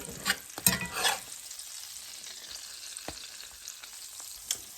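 Patties sizzle in a frying pan, a soft, continuous crackle broken by a few sharper scrapes and stirring clatters early on, fairly quiet with no voices.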